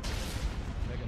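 Space warships open fire in the Star Wars Thrawn's Revenge strategy game, a brief burst of booming cannon fire with a dense, rumbling low end, moderately loud and alone.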